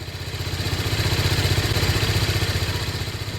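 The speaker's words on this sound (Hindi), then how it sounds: "एग्जॉस्ट की नॉइज़ बहुत ज़्यादा मेटालिक है" A TVS Apache RR310 motorcycle runs steadily close by, its exhaust giving a rapid, even, metallic throb and clatter without any talk.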